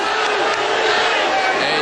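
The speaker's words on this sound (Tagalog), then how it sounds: "You the crowd cheering Baduria" Crowd at an MMA bout between Palomar and Baduria, a dense, steady roar of cheering voices filling the whole stretch without pause, loud and close, with shouts rising out of the mass.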